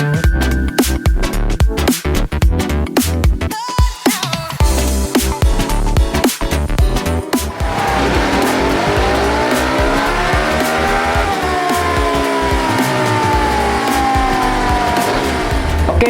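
A Kawasaki KLX motorcycle engine runs on a dyno before a bore-up, roaring loud and steady throughout, revving up through rising pitch sweeps after an early stretch of choppy, uneven throttle blips.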